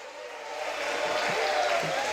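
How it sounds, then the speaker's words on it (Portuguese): A church congregation at a Thursday teaching service applauds together, giving a dense, sustained clatter of many hands that swells slightly and holds steady through the whole moment. "Aplauda Jesus de Nazaré."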